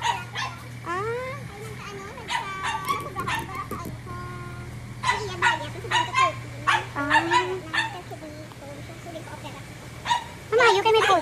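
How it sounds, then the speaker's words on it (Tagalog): Dogs bark and yip repeatedly at a warehouse, a mix of sharp barks and whimpers with geese honking nearby, while people talk over the din. "O, ito naman mga aso."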